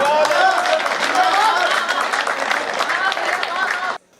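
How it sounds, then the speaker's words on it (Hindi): A crowd applauds loudly at a Hindi comic poetry gathering, with dense rapid clapping spread across the whole span and then cut off sharply near the end. "मुझे आपकी तालियां चाहिए।"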